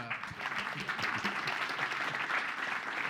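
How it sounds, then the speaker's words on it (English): An audience applauds panelists at the close of a Bitcoin panel discussion, a steady wash of clapping from a moderate-sized crowd, sustained and fairly even throughout. "just one last round of applause for our panelists."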